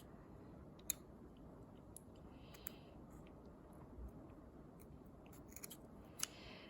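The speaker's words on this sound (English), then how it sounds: "I'm just going to cut that one off." Scissors snip a piece of yarn in a few sharp, faint clicks close by, separated by quiet pauses.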